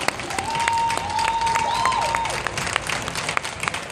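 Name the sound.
audience clapping hands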